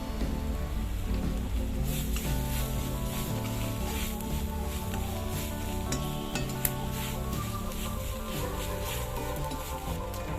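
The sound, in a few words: stirring spiced soya chunks frying in a pan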